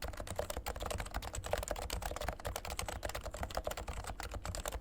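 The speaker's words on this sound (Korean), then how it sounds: "이 키보드는 리얼포스 R2 저소음 45g 균등 제품입니다." Rapid, steady typing on a Realforce R2 silent 45g Topre keyboard with dampened sliders, producing soft, muffled keystrokes in a dense continuous patter, close and quiet, with no talking.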